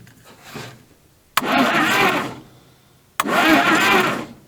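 An old engine, left in storage for over 30 years, is cranked over in two loud bursts of a couple of seconds each, with a sharp click at the start of each crank and a churning, uneven turnover without firing.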